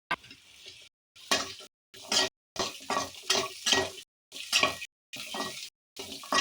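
Garlic sautéing in a pan, heard as bursts of sizzle and stirring scrapes broken by short silent gaps, fairly close and moderately loud.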